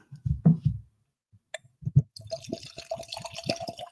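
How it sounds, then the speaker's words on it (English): Irish whiskey is poured into a glass: some soft taps and clinks, then a steady gurgling trickle of liquid that runs for about two seconds, close and moderately loud with no talking. "we're gonna pour this up"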